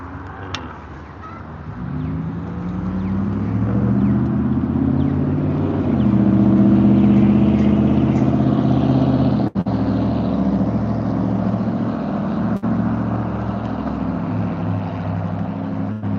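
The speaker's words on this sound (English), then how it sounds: "Flow of traffic." Road traffic flows past in a continuous rumble, engines swelling and fading as vehicles pass close by, with no talking.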